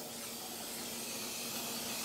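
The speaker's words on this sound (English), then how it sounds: "so now we're gonna spray the pan" Cooking spray hisses steadily onto a pan for protein pancakes, a continuous close, even spray with no talking.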